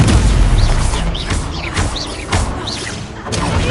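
Confringo explosive spell blasts go off in the Hogwarts Legacy video game, loud booming crashes with whooshing bursts repeating over a dense low rumble of combat noise.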